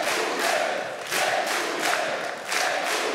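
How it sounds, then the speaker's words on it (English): A large crowd at a video game reveal event applauds and cheers, a dense, loud roar of clapping and shouting that swells in waves. "give them a huge round of applause"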